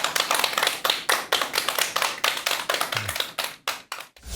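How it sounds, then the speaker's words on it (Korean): Applause from a lecture audience welcoming a professor at a talk on death, dense hand claps at steady volume for several seconds that thin out into a few scattered final claps. "큰 박수 부탁드립니다."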